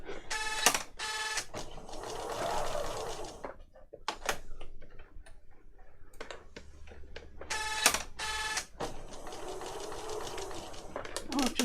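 A domestic sewing machine stitches junk journal pages in short bursts of rapid mechanical whirring, separated by quieter gaps with clicks and handling noises, recorded close by.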